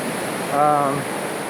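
Steady, loud broadband rush of a fast-flowing rainforest river close by, near Mocoa, Colombia, with a brief tonal swell in the middle.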